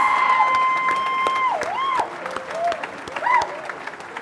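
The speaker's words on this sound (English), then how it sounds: "One more big round of applause for this extraordinary class." Applause and cheering from a crowd honoring a graduating class at a college commencement ceremony. The clapping is scattered and moderate, with sustained whistle-like tones running over it.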